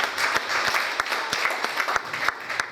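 A church congregation claps together in a brisk, even burst of applause lasting a few seconds, with no talking over it.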